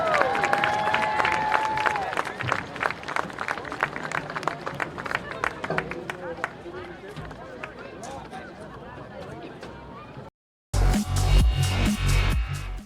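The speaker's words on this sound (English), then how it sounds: "let's give one more round of applause for all of our Oliver Ames seniors" A crowd at a high school football senior night, Oliver Ames versus Mansfield, claps and cheers for the seniors, moderately distant and steady, with crowd murmur and voices mixed in, then a brief cut and a louder burst of noise at the end.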